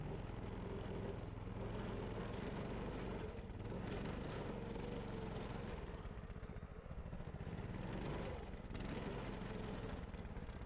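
A Coleman Mini Bike 200 engine runs steadily and close by, a continuous buzzing drone with slight rises and dips as the lightweight bike climbs over a snowbank; no voices are heard.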